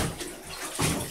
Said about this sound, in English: Okay, no splashing.